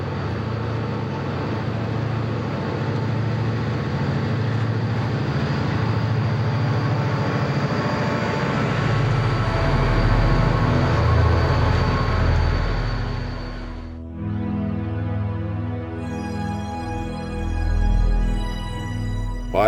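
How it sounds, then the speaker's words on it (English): A Conrail freight train with a pair of SD40-2 helper locomotives on the rear rumbles loudly past in the Allegheny Mountains, its heavy drone shifting partway through into a clear tonal hum. "Helping this train on the rear is a pair of SD40-2s"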